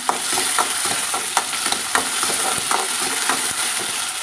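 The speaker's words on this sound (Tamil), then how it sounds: "முருங்காய் போட்டு லைட்டாக வதக்கலாம்" Drumsticks (moringa pods) sautéing in oil in a pan for a mango tamarind curry, a steady bright sizzle with repeated stirring scrapes and clinks throughout, close and continuous with no talking.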